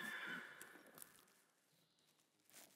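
A horse at an equine training workshop gives a short neigh early on, heard from fairly close over a low background of stable noise.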